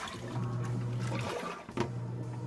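A Panda PAN56MGP3 portable compact washing machine drains water, a steady gurgling rush with a low pump hum that briefly dips and then resumes.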